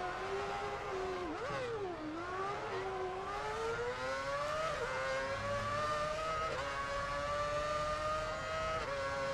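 A Formula 1 car engine screams in the racing game F1 2006, a loud, high-pitched whine that dips on downshifts and climbs steadily as the car accelerates, heard alone with no speech.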